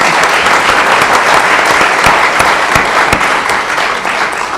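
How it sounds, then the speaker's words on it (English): Sustained applause from a debate audience, steady and full throughout, with dense clapping filling the room after a candidate's closing statement at a League of Women Voters forum. "You may applaud now."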